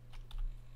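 A few quick key taps on a computer keyboard as a new folder name is typed, faint and close, clustered in a short burst over a steady low hum.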